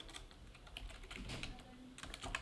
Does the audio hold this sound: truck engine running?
no